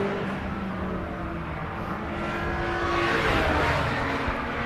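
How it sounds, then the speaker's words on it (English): MG Cup and Cockshoot Cup race cars scream past a trackside gantry at Silverstone, a loud, steady engine roar that swells as cars draw near. "It sounds incredible as all of these Cockshoot Cup and MG Cup cars come screaming underneath our feet here from the gantry at Silverstone."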